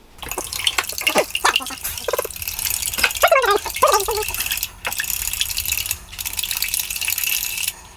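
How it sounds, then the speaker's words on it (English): Fork whisking two tablespoons of olive oil into flour for ravioli pasta dough, heard as a quick run of light clinking, scraping strokes against a bowl over a steady faint hiss, with no talk. "Whisk it together."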